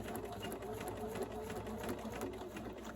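A sewing machine stitching a quilt block pillow cover, running in a steady close whir with a fast even stitching rhythm throughout, no talking.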